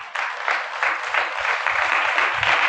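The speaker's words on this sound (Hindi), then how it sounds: "हाँ, ताली बजा लो अच्छे से बजा।" An audience claps together on request at a church sermon, a dense, loud burst of applause sustained for the whole short stretch.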